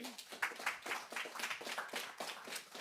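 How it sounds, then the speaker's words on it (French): Faint, distant applause from a French conference audience at a talk on the environmental impact of trains, with soft, uneven clapping that swells and fades. "Sous vos applaudissements nourris, mesdames,"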